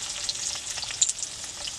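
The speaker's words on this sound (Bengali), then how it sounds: "পেঁয়াজটা আমার একটু লাল লাল করে ভাজতে হবে" Chopped onions sizzle in hot oil in a wok with cardamom, cinnamon and black cumin, a steady close crackling hiss with small pops and no voices.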